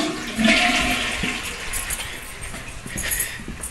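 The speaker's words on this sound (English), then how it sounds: "I'm going to go flush a toilet." A toilet flushes nearby in a home plumbing setup with a pressure regulator, a loud rushing surge of water that slowly settles into a gurgling refill.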